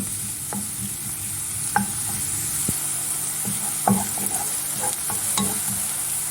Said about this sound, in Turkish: Soğanlarımızı şöyle bir dakika falan çevirelim